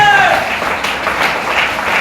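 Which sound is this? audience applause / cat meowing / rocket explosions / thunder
audience applause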